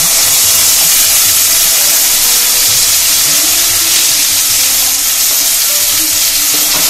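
Ground spice masala with Kashmiri chilli powder hits a hot pan while a mango-prawn dish is cooked, giving a loud, close, continuous hiss and sizzle with occasional stirring scrapes and no talking.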